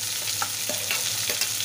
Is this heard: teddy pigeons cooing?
no